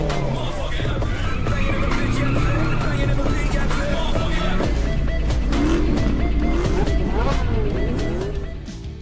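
Race cars speeding through city streets in a night street race, a film scene: loud, continuous engine roar with rising and falling revs and tire noise, layered thickly and steadily across the whole stretch.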